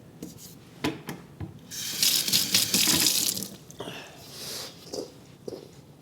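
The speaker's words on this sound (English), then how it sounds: "So I'm wetting my hands." Hands are wetted under a running kitchen tap while making focaccia dough, a close burst of splashing water lasting a couple of seconds between quieter rubbing and handling sounds.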